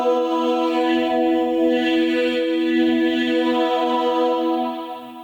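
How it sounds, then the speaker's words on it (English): A synth choir patch for a horror score sustains a steady, loud chord while its vowel color slowly morphs via a modulation wheel, fading slightly at the end, with no voices speaking. "it also takes in a modulation wheel to get different vowel sounds, which sounds like this."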